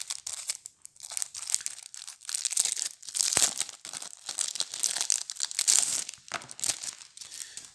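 Crinkling and tearing of a paper envelope being opened for the God of War card game, a close, busy stretch of rustles, rips and crunches that keeps going without pause.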